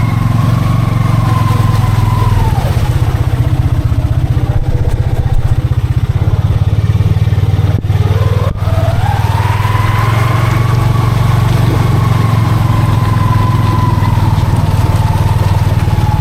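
A Honda Pioneer 500 side-by-side on 32-inch Aztec tires, with long-travel suspension and a locker, crawls a narrow, rough trail. Its engine drones loud and close throughout, dipping briefly midway before the revs rise again, with faint clatter underneath.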